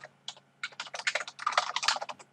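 Rapid typing on a computer keyboard, a dense run of close, crisp key clicks that starts after a short pause and speeds into a busy, uneven clatter, with no voices.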